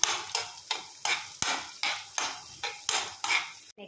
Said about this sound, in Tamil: இதை லைட்டாக வதக்கிக்கோங்க.